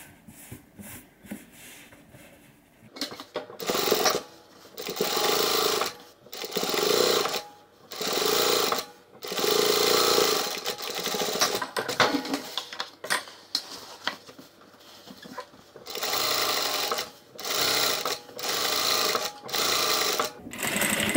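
A sewing machine runs close by, top stitching a messenger bag in repeated bursts of rapid mechanical whirring separated by short pauses, loud and steady with no talk over it.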